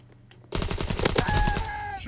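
Sudden, close automatic gunfire bursts out in Call of Duty WW2, a rapid rattle of shots that keeps going for about a second and a half after a quiet start.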